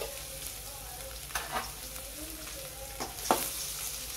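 Mustard seeds, asafoetida, a dried chili and chopped shallots sizzle in hot oil as a tempering for sambar, a quiet crackle with a few sharper spits and stirring scrapes.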